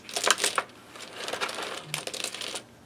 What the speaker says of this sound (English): So while I'm kind of pulling them out or shuffling them in my hands